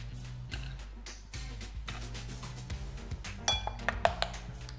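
Plates, cutlery and glass clink intermittently close by while a fish dinner with crispy potatoes, salad and tartare sauce is plated up, with light scattered taps growing busier toward the end and a low background hum.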